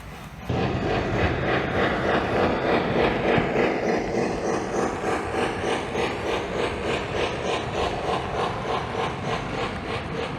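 A Lionel American Flyer FlyerChief Berkshire NKP 765 model train runs steadily at close range, with a continuous loud rolling rumble and rhythmic clicking over the track, and no voices.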